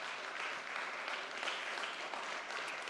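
A church congregation applauds continuously, dense crowd clapping filling the room at moderate level without pause for about three seconds.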